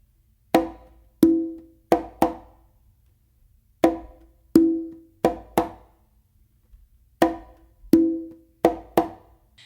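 A weak tumbao exercise on conga and tumba: crisp hand strokes and slaps in short grouped patterns, each strike ringing briefly, close and alone with brief gaps between phrases.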